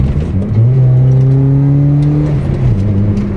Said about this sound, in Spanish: Miren, miren, miren cómo con el golpe de gas Se eleva el tacómetro.